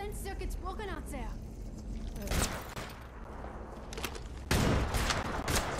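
Gunfire in the Apex Legends battle royale game: short bursts of sharp shots around the middle and end, with players talking over the action.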